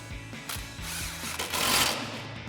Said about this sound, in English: Tighten that down with our 15 mil socket on our impact.